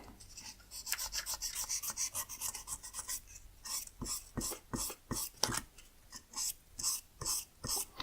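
Sandpaper dragged by hand over a wooden edge, a series of close, rhythmic rasping strokes, steady at first and then slower and more distinct, with no talking.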